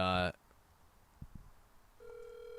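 A phone call is dialed, with a burst of rapid keypad tones at the start, a quiet gap with faint clicks, then a steady ringback tone begins near the end.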